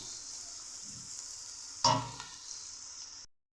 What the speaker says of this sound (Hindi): अब इन प्याज़ों को हमने इतना पकाना है कि सिर्फ इनका कलर जो है ना पिंकिश हो जाए